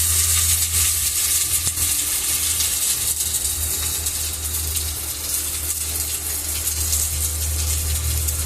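Chili paste sizzling in a hot pan for butter paneer, a loud, steady frying hiss that carries on unbroken throughout with a low rumble beneath.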